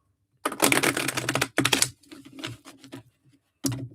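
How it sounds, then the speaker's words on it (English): Tarot cards being shuffled by hand in a few loud, close, papery bursts: a long riffle, a shorter one, softer rustling, then a final quick burst after a pause. "Just shuffle these up here."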